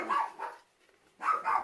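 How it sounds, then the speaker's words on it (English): A dog indoors barks in two short bursts, each a quick pair of sharp, fairly close barks with a brief quiet gap between them. "whoops, there's my dog."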